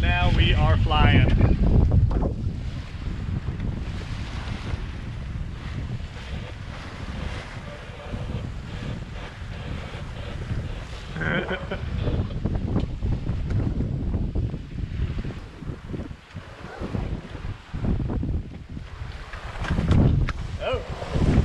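A sailboat speeds along in the British Virgin Islands, with strong wind buffeting the microphone and water rushing past the hull, a constant loud rush under occasional talk.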